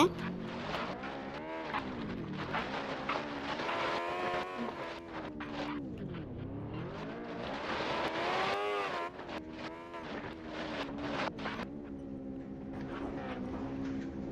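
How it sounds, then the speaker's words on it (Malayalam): Bus engine in the Roblox game Dangerous Bus Driving, revving in repeated rising and falling sweeps, loud and continuous with a buzzy harmonic tone. "നമ്മളുടെ എഞ്ചിനൊക്കെ റവ് ചെയ്യുന്നുണ്ട് കേട്ടോ ബസ്സിന്റെ."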